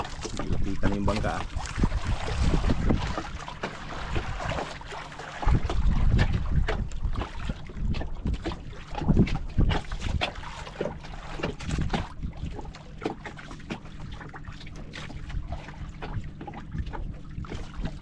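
Several speedboats race across open water, their engines and hull splash blending into a loud continuous roar with wind buffeting the microphone, while people talk and exclaim throughout.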